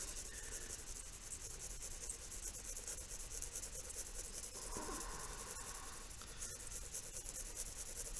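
Colored pencil scratching and rubbing across paper while coloring in a drawing, a faint, steady close-up scraping with small strokes and no talk.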